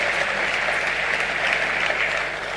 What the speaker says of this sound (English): could we have another round of applause for our keynote speaker